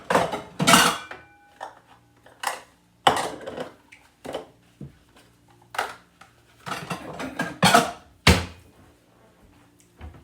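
Food is served into a favourite bowl, with scattered clinks and scrapes of a utensil against the dish, sharp isolated knocks in an irregular rhythm, close and fairly loud with quiet gaps between.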